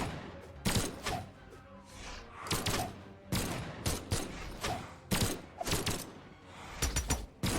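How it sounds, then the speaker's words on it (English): Video game gunfire from Lord Vraxx's guns in a competitive match: rapid bursts of sharp, loud shots in quick irregular clusters, close and continuous over busy game sound effects. "but Pickled, well, he's just running around right now with Vraxx's guns"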